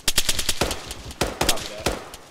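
Rapid bursts of automatic gunfire crack close and loud in a military video game, several quick volleys separated by short pauses.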